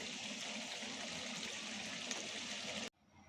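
Rice is washed in water while a tap runs, a steady, rushing stream of pouring water that stops abruptly near the end, leaving a quiet room.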